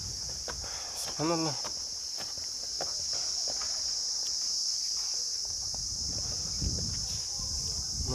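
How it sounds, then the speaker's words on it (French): A dense chorus of crickets outdoors in Ras Al Khaimah, UAE, shrills as a continuous high-pitched drone throughout, with a short spoken exclamation and scattered footsteps and rustling below it. "Il y a plein de grillons."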